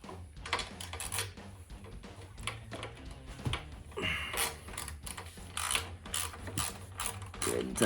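A socket ratchet clicks rapidly in uneven bursts while tightening the battery terminal on a Harley-Davidson Dyna Super Glide, close and clear with short pauses between strokes.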